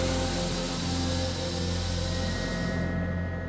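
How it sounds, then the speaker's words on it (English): A helicopter flies over a large wildfire emergency area in Canada, with a steady loud engine and rotor drone throughout and no talk. "We're hitching a ride with helicopter pilot West Luck"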